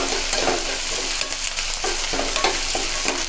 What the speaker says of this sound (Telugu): ఇక్కడ మన బెండకాయలు ఫ్రై అవుతున్నాయి